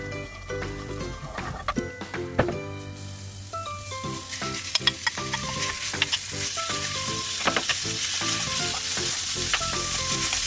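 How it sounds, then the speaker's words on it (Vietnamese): Steady sizzling of beef being stir-fried in a hot pan, with occasional clinks and tonal music playing throughout. "Chúng ta sẽ xào thịt cho đến khi mà thịt săn chín lại là được"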